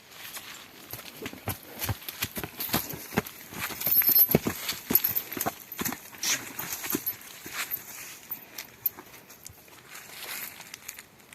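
Irregular hoof clops on a hard surface, several animals moving at a walk, fairly close, with scattered knocks and faint background noise.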